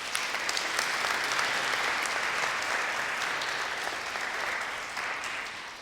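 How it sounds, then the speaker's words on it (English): Audience at a state final school debating event applauds the chairperson and timekeeper, a sustained, even round of clapping that gently tapers toward the end, no voices over it. "I'd also like to make reference and a round of applause for Chriso, our chairperson and timekeeper."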